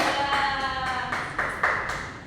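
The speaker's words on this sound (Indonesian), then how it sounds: "Yuk kasih tepuk tangan" A small class of pupils claps after an Indonesian lesson on acronyms and abbreviations, a few distinct sharp claps with a sustained ringing tone underneath.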